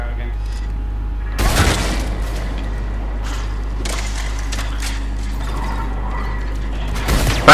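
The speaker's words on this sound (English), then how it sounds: "just putting my turret out again" A combat turret deploys in Mass Effect 3 multiplayer on the Firebase Giant map, with clanking, ratcheting mechanical clicks and a few sharp metallic thumps over a constant low hum, while players talk throughout.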